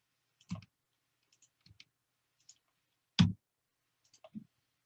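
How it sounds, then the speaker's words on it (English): Sparse keyboard typing with a few separate key clicks and soft taps spread across a quiet pause in a programming lecture, close and fairly faint. "I'm typing in my keyboard."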